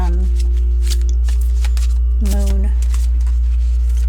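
Oracle cards from a Moonology deck shuffled by hand, soft riffling and sliding flicks close up in short bursts, with a low steady hum beneath and a voice talking over them.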